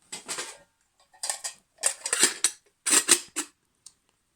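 Metal clanks and scrapes in several short bursts as a Pathfinder lid is worked onto a metal canteen cup, with brief quiet gaps between.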